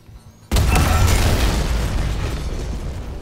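A bomb detonates in the sci-fi horror game Dead Space, a sudden loud blast after a brief quiet lead-in, followed by a long rumbling, crackling decay.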